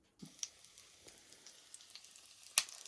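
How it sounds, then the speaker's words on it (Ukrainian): Soft, steady sizzling of salmon backbone frying in hot oil in a pan, faint and continuous, with a few light clicks and one sharp clink near the end. "Рибка смажиться і дуже гарно пахне."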